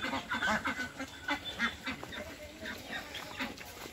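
A flock of Pekin ducks, 42 days old, quacks in a busy overlapping chorus of repeated nasal calls, fairly near but moderate in level, with no talk over it.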